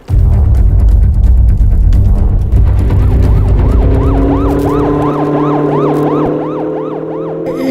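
A police car siren wails loudly over a deep engine rumble, then settles into a fast, repeating up-and-down yelp that stays close and clear, with no talking.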